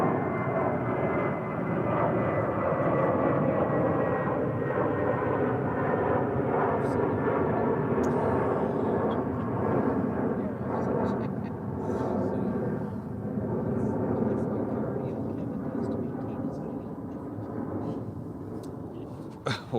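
Spirit Airlines flight 867, a passenger airplane at DFW airport, produces a steady, loud broadband engine roar that holds for the full stretch and slowly shifts in pitch, with possible faint voices beneath.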